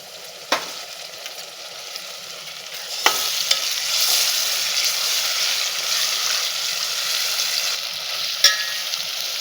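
Tomato puree fries with masala in a pan, a loud bright continuous sizzle that swells after a few seconds, punctuated by three sharp clinks of a spoon against the pan, close up.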